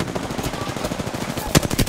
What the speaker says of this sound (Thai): มันยิงกันอยู่ครับ